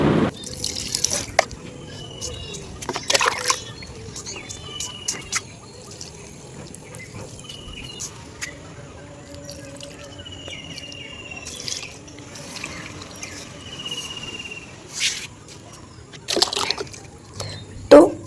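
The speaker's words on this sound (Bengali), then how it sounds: "জল দিয়ে তারপর কথা বলছি।" Water dripping and trickling as small potted plants are watered in a rooftop garden, with soft irregular splashes and occasional louder pours against a quiet outdoor background.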